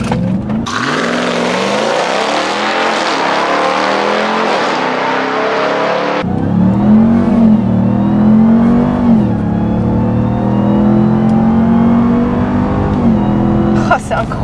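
Dodge Ram TRX pickup launching from a standing start on a banked test track: a loud engine roar builds steadily as it accelerates and climbs through the gears, up close throughout, with a shift partway through and a voice talking over it.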